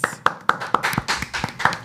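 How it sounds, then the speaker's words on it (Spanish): A small group claps in a podcast studio to welcome a guest, an earthquake expert from the Dominican Republic, with close, loud, uneven hand claps and taps in quick succession. "Vamos a recibir con un fuerte aplauso a Ashley Morales."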